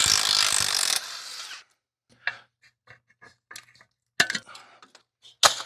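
A ratchet wrench works 3/4-inch bolts and nuts on an 8K four-bolt trailer axle brake flange, with a burst of broadband noise followed by sparse, crisp clicking strokes and short pauses in a quiet workshop.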